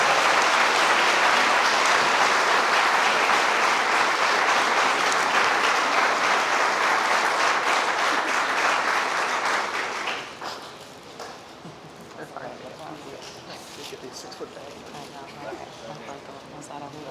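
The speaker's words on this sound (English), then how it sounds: "Please join me in giving a round of applause to our NHS graduates" Audience applause for NHS graduates at senior awards, a large dense burst of clapping that holds loud for about ten seconds, then drops sharply to scattered claps and quieter room noise.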